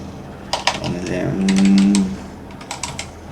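Keys clatter in short bursts on a computer keyboard as an email address and password are entered, with a brief low hum in the middle of the sequence.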